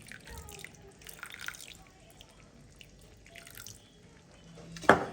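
Water poured into a pot of raw rice on the stove, a few soft trickles and splashes with a sharper splash near the end, fairly close and with no speech.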